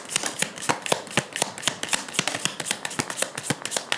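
Tarot cards being shuffled by hand, a rapid run of crisp riffling flicks and soft taps repeating steadily and close, with no voices.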